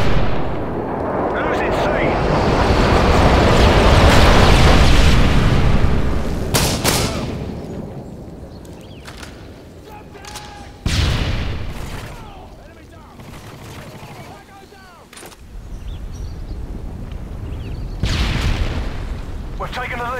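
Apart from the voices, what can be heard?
airstrike bombs exploding in the video game Modern Warfare 3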